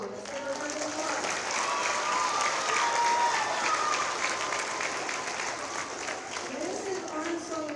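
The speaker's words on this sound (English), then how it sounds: "Let's give her a round of applause." A school assembly audience gives sustained applause for Mrs. Armstrong at a hair-donation event. The clapping is mixed with crowd noise and some cheering or voices through the middle and end.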